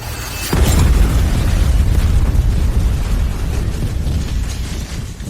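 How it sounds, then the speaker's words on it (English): A loud explosion in a drama scene bursts in suddenly, then a sustained deep rumble and roar carries on for several seconds without fading much. "There's been an explosion."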